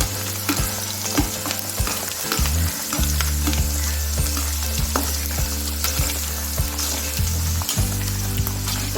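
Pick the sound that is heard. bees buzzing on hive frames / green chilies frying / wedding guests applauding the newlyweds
green chilies frying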